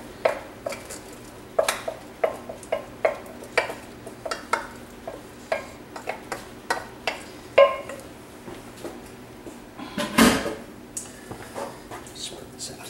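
Rice mixture for Sicilian arancini spread out in a half hotel pan, with a steady run of short, sharp scrapes and taps of a utensil against the metal pan, close and regular, ending in a louder scrape.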